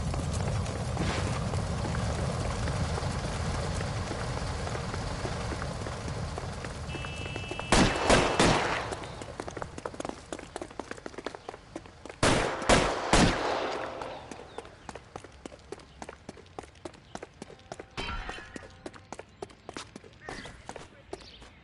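Gunfire in the video game L.A. Noire: bursts of sharp shots around 8 and 12–13 seconds, with scattered single cracks after, over a steady background rumble, loud and near.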